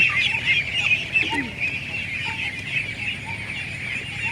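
Ducks quack and cluck in a busy flock on a duck farm, a steady hubbub of calls over a constant background hiss, with no one speaking.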